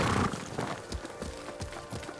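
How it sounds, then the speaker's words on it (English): Horse hooves clopping on the ground in the Ghost of Tsushima video game, with a brief neigh near the start, moderately loud and close, followed by a few uneven hoof strikes. "Horse!"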